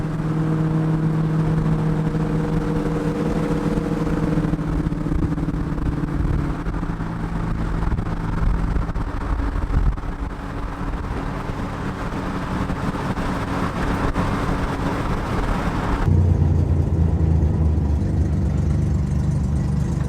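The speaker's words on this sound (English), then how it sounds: "So the Corvair technically gets to drive on the Daytona Speedway" Roof-chopped Corvair driving across the Daytona Speedway, a continuous engine drone heard from inside the car with shifting pitch and a brief change in tone near the end, steady and moderately loud, no speech.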